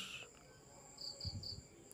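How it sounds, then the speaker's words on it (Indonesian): Crickets chirp at dusk in short, bright pulsing trills, several quick bursts close by over a faint, quiet background. "ada suara jangkrik krik krik krik"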